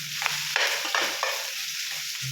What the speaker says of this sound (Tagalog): hinulog na ang bawang at sibuyas